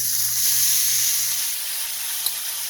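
Minced meat for keema karahi hitting hot oil in a pan, a steady loud hiss and sizzle throughout that eases slightly toward the end, with one small clink near the close.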